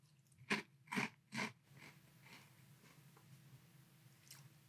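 Three loud, close crunches of Chokos chocolate cereal from Costa Rica being bitten, then softer chewing sounds that fade to quiet.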